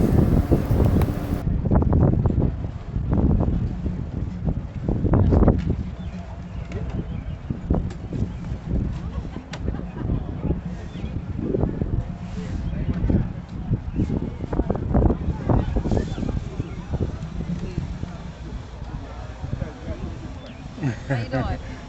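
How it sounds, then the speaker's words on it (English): Strong wind buffets the microphone in a constant low rumble that swells and gusts throughout, with faint voices somewhere underneath, at a waterfront festival in Portsmouth, Virginia. "Excuse the wind. We had a small craft advisory this weekend."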